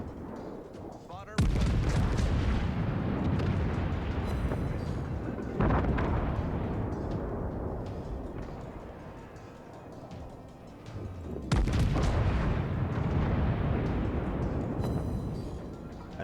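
Heavy battleship main guns fire in World of Warships, with huge booming salvos at about 1.5, 5.5 and 11.5 seconds, each one followed by a long rumbling decay, loud and close, with a faint voice under the rumble.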